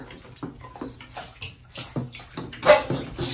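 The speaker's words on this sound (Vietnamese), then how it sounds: "Nó tự xả nước luôn nha cô chú" Water sloshes and gurgles in a bathtub in short, soft bursts, heard faint and close over a few seconds.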